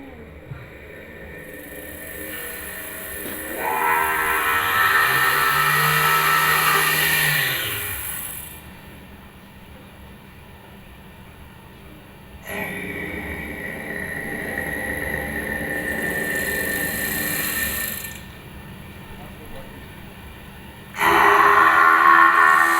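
A loud blender in a demo played at a talk runs in long roaring bursts separated by quieter pauses, with a harsh whirring motor that switches on and off abruptly.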